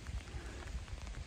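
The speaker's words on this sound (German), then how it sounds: "Balloxen sind nass. Es regnet." Rain falling steadily outdoors on a farm on a wet August morning, a dense, even hiss of drops with soft low patter, fairly close and continuous, no voices.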